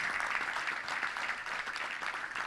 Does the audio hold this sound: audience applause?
yes